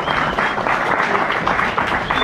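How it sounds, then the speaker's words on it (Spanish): Crowd at a theatre bar party night breaks into loud, dense applause, a continuous wash of many hands clapping close by for a couple of seconds. "acá un fuerte aplauso, por favor"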